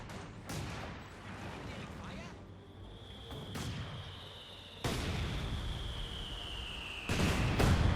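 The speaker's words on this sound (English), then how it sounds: "A lot of mortar fire there." Mortar fire in the World War II strategy game Company of Heroes 2, with several sharp booming blasts spaced a few seconds apart over a rumbling battle backdrop and a whining tone.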